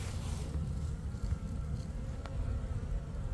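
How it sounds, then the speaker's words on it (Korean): Honeybees buzzing around the last beehive to survive pesticide-based farming, heard outdoors as a steady low drone with a few brief louder passes, no talk. "이놈은 장수 농약농법에 살아남은 마지막 벌통."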